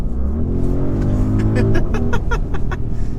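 Audi RS Q8 SUV from 2023 accelerating hard on a road, a loud steady engine roar with rising harmonics and rhythmic pulses as the revs climb, close and continuous for a few seconds.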